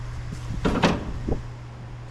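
Rear quarter window of a 1967 Chevelle drops in its track with a short rattling slide and a dull clunk, followed by a smaller knock, close up over a steady low hum with no talking.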